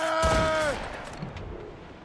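Ship cannons fire during a naval battle in the video game Assassin's Creed Rogue, a short booming volley that rings out loudly and then fades into a rumbling tail.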